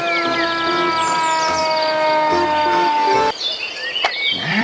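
A toy fire truck siren plays a looping electronic wail up close with high chirping tones, then cuts off abruptly partway through, followed by clicks and handling noise.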